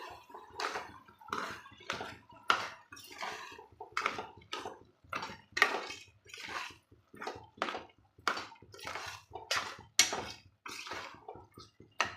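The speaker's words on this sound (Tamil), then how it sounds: "தண்ணி தேவைக்கு தண்ணி சேர்த்திக்கலாம்" Water splashes and sloshes into a pot of bottle gourd and broad bean curry in a steady series of short, close bursts, with no talking.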